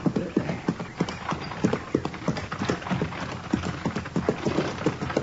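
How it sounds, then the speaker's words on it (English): Horse hooves clip-clop at a steady trotting rhythm while pulling a buggy along a road, close and continuous for several seconds, with faint creaks and a brief hint of a whinny. "How do you like riding in a buggy, Matt?"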